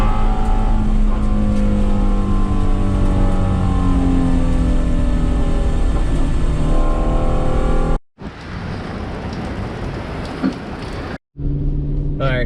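A truck drives on a race track during an SCCA time-trial event, its engine droning loud and steady with rising and falling pitch, then cutting briefly in short gaps as the ride continues close to the cabin.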